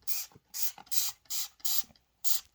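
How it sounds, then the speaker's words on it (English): Dawn Powerwash dish spray pumped in six quick, evenly spaced hissing bursts, close and crisp, with brief pauses of trigger clicks between them and no talking. "So This one's not heavily residue. Like, so all I'm gonna do is like you spray it,"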